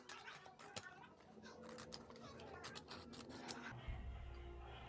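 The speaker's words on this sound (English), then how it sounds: "Then you're going to cut right here." Scissors cut along a folded line in paper while making a fortune teller, giving a series of faint, close snips and crisp slicing sounds over a few seconds, with quiet handling noise and a voice speaking softly.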